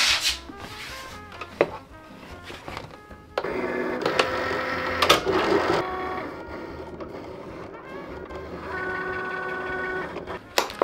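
A Cricut machine cuts vinyl and cardboard with a steady mechanical whir and rubbing scrape, its motor pitch shifting as the blade carriage moves back and forth in short passes, close and fairly quiet with no talking.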